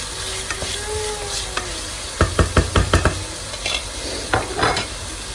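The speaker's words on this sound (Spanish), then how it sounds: "Echamos la cebolla." Chopped onion for a Spanish chicken and potato dish hits a hot frying pan with a steady sizzle, followed by a quick run of loud wooden knocks and scrapes as it is stirred, then more scattered taps over continued frying.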